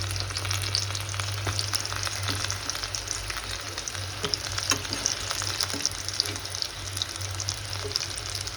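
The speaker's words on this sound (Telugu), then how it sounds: "ఇప్పుడు అదే ఆయిల్లోనే మనం సన్నగా తరుక్కున్న ఆనియన్స్ అయితే వేసేసుకున్నాము" Thinly sliced onions fry in oil left from cooking brinjal, giving a continuous close sizzle with scattered crackles and light stirring scrapes, steady throughout and free of talk.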